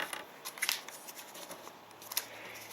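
A sheet of paper being creased and folded into an origami stork, giving soft crisp crinkles and sharp papery snaps scattered irregularly close to the microphone in an otherwise quiet room.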